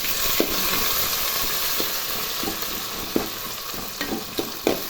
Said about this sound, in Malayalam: നമുക്ക് ഉള്ളി ഇടാം രണ്ട് ഉള്ളിയുള്ള